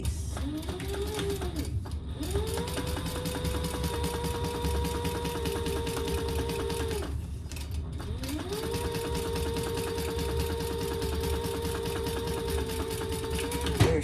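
A sewing machine runs top stitching on a bag lining in two long, steady whirring bursts of rapid needle clatter, each rising to speed and ending with a brief pause between, close and fairly loud, without speech.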